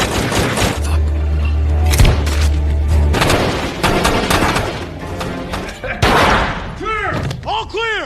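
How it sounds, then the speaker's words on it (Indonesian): Film gunfight at a jungle hideout: dense bursts of gunfire and booms over a rumbling score, with a narrating voice running throughout and a few fast whooshing, swooping effects near the end. "mereka pun langsung masuk ke markas si Kristo itu hingga kontak senjata yang sangat mengemplutkan pun terjadi."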